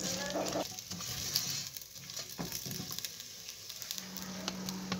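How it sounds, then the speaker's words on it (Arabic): Potato pieces fry in a pan with a soft, constant sizzle while a spatula stirs and scrapes them now and then. The sound is quiet and close. "وهنفضل نقلب في قطع البطاطس دي لحد ما لونها يتغير ويكون دهبي فاتح زي البطاطس المقلية"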